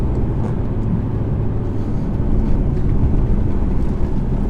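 A 2017 Mercedes E220 Coupe on Michelin PS4S tyres accelerates around a wet corner, its engine and road roar a steady, loud cabin drone that swells slightly as the throttle opens.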